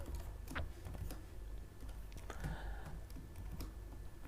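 Python code is typed on a computer keyboard, giving quiet, irregular key clicks with a few sharper taps, close but faint, and no voices.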